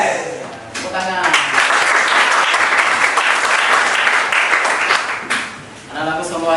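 A class of students claps their hands together in a loud, sustained round of applause lasting several seconds, dipping briefly near the end before picking up again, with voices mixed into the noise.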